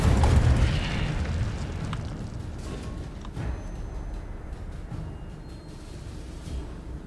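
The Incendio fire spell goes off in Hogwarts Legacy with a deep, booming burst at the start. A rumbling, crackling fire tail then fades slowly over several seconds, and a few faint pops follow.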